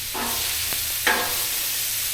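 Shrimp sautéing on a flat griddle, a steady broad sizzle with a couple of brief spatula scrapes and a small hissing flare partway through, close and without talk.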